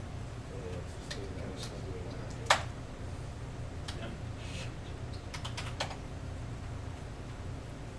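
Keystrokes on a computer keyboard while entering a BASIC program, heard as scattered soft clicks over steady background noise, with a sharper tap or two standing out.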